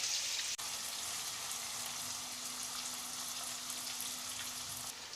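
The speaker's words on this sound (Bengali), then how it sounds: "বন্ধুরা তেল গরম হয়ে গেছে, ফুলকপিগুলো দিয়ে দিচ্ছি" Cauliflower florets fry in hot white oil with a quiet, even hiss of sizzling, broken by a single sharp click near the start, and no voices.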